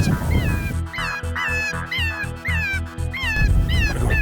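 Electronic predator call playing gray fox pup distress cries outdoors near a reservoir in Alberta, a loud run of repeated high, wavering squeals and yelps over a rhythmic low throbbing pulse, continuous for several seconds.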